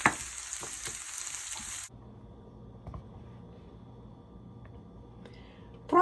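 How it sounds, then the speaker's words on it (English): Food sautéing in a pan with a little tomato paste, a loud broadband sizzle for the first two seconds that drops to a quiet background hiss with faint clicks, then swells again at the very end. "So I'm gonna saute, then I'm gonna add a little bit of tomato paste."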